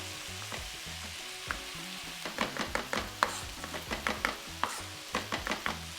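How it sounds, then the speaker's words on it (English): A knife finely chops fresh basil, oregano and rosemary for chicken bolognese, giving a quick run of close, crisp taps on a board over a steady background hiss, with the chopping growing denser toward the end. "And you're just gonna really finely chop that up."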